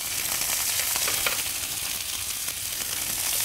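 Lough Neagh pollan fillets fry in a hot pan, a steady soft sizzle and crackle close by, with no speech over it.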